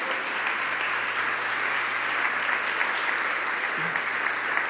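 A crowd applauds steadily for several seconds, a dense, even wash of clapping at moderate volume with no pauses.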